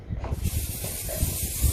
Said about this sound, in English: I actually really like using olive oil spray